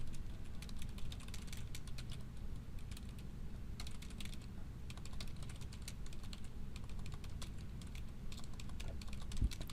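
Steady typing on a computer keyboard, close and soft, continuous key clatter with brief pauses over a low background hum, no talk.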